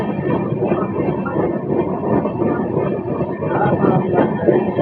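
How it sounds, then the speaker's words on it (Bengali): The Amrit Bharat Express rumbles at Durgapur Junction, a steady, loud rolling clatter of wheels and carriages filling the whole stretch with faint voices beneath. "এখন আমাদের ট্রেন এসে দাঁড়িয়েছে দুর্গাপুর জাংশনে"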